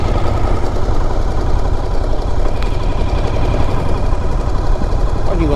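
A motorcycle engine drones steadily and loudly while riding straight ahead through residential streets of Schleswig, Germany, a continuous rumbling mid-low hum with no clear breaks.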